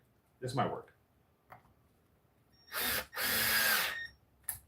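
A power drill pre-drills a hole during a home vacuum brush-roll repair. Two short bursts of whirring come one after the other, with one longer than the other. A few faint clicks and handling noises come before them, and a brief buzz follows.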